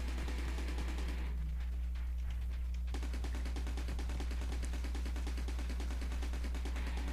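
Gunfire from the shoot-'em-up game Steredenn is a fast, steady stream of rapid shots that continues for most of the stretch over a constant low hum, briefly thinning near the start.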